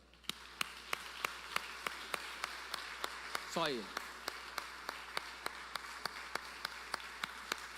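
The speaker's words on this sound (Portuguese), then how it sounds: "Aplauda Jesus." Steady rhythmic clapping from a congregation at a Portuguese-language evangelical church service, crisp claps at a regular beat over a low room hum, with a voice speaking briefly partway through.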